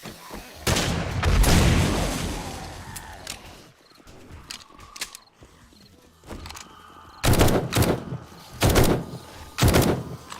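Gunfire from police enemies in the survival game 7 Days to Die, with a heavy burst early on followed by several sharp, loud shots spaced out near the end, separated by quieter stretches.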